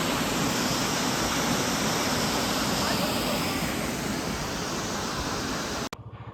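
Hickson Falls and Chutes, a popular local swimming-hole waterfall, roars in a steady, loud broadband rush of falling water up close, cutting off abruptly near the end.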